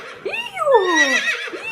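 A person imitates a horse's whinny with a rising then falling, quavering cry, loud and close, with no other sounds.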